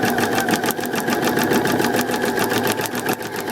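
A sewing machine runs steadily at a low speed setting while sewing a tiny back stitch at the start of a seam, giving a close, fast, even mechanical rattle throughout.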